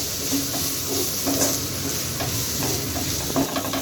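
Chilli powder, cumin powder and garam masala are stirred into hot oil in a frying pan for chole masala, a continuous close sizzle broken by soft spoon scrapes.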